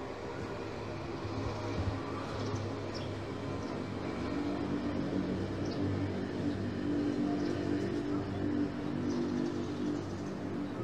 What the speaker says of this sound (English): The noise of the motor scooter.